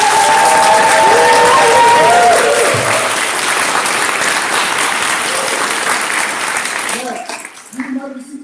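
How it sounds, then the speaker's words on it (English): Loud, sustained applause from an open meeting audience at a festival gathering, with a tonal voice or sound early on; the clapping thins and fades out near the end, giving way to a speaking voice. "we are going to do another round of applause"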